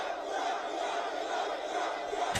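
A large rally crowd cheers and roars for Donald Trump in the South Bronx, a dense, steady wall of voices that holds loud throughout and ends in a sharp burst.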